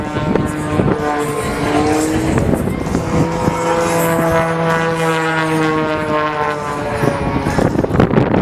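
A 400-horsepower aerobatic biplane performs at an airshow, its engine droning loud and steady with shifting pitch as it passes, dense harmonic roar continuing throughout without talk.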